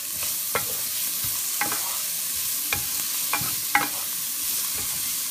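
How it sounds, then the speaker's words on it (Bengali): Carrots cook on low heat in a pan with very little oil, giving a steady soft sizzle. A spatula scrapes and taps the pan a few times in an irregular rhythm, close, and no one speaks. "এমনভাবে কম আঁচে করছি যাতে গাজরটা সিদ্ধ হয়ে যায়"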